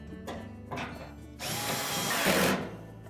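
A power drill tightens screws on a Whirlpool dryer panel: two short whirring bursts, then a longer, louder run of the motor that rises and stops, with no talking.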